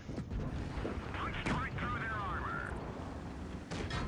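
A tank cannon fires in World of Tanks Blitz, a single boom under steady engine rumble and battle noise, fairly faint in the mix with a whining tone after the shot.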